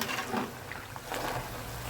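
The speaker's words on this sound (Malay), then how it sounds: "Dan kita goreng juga." Keropok bantal crackers frying in hot oil, giving off a soft, steady sizzling hiss that stays fairly faint throughout, with a brief louder crackle at the very end.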